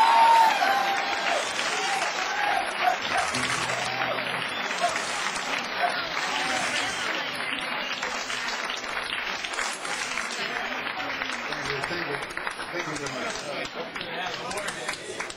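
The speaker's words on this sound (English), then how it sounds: "Big round of applause for Mr." Audience at a live blues concert at Larry Blake's in Berkeley, California, applauding and cheering steadily for about fifteen seconds, loud and sustained, with crowd chatter mixed in.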